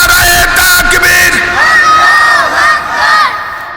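A large crowd at a religious gathering roars a loud takbir response in unison, a sustained massed chant of many voices that swells and holds through the whole stretch, close and powerful.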